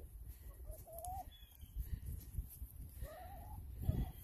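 Hens cluck and chatter in short rising calls over a constant outdoor background of wind and rustling, with a bit of movement noise.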